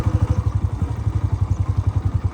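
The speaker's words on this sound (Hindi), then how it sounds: "बाइक इधर ही रोक दें, फिर पैदल चलते हैं दरिया की तरफ।" A motorcycle engine runs steadily nearby on a rural village road in Pakistan, a loud rhythmic low thumping pulse with faint mechanical clatter throughout, no talk over it.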